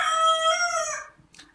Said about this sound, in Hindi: आई थिंक मुझे इस मुर्गे को कहीं भगा के आना पड़ेगा